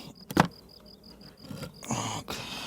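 Honey bees buzz around an open nucleus colony during a hive inspection, a steady close hum broken by a few sharp clicks and knocks from handling, with no talking.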